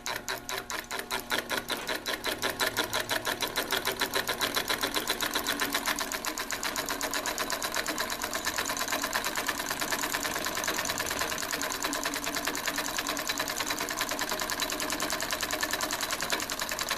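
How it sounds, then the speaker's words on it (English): A small electric engine with a counterweighted crankshaft runs steadily, giving a fast, even mechanical clatter that holds at a constant moderate level throughout. "The little counterweighted crankshaft kind of helps at low RPM for it to go ahead and turn over like any other."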